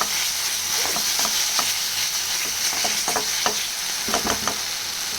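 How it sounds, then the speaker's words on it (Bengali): Salt and sugar being stirred into a sizzling cooking pan, a steady frying hiss broken by irregular scraping strokes of the spoon, close and moderately loud with no voices. "নুন আর চিনি ভালো করে নাড়বো"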